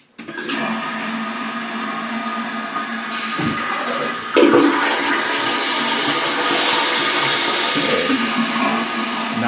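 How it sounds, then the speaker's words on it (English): A Toto toilet flushing, loud and near, a rushing surge of water that swells midway and keeps draining steadily to the end with no talk. "And let's flush."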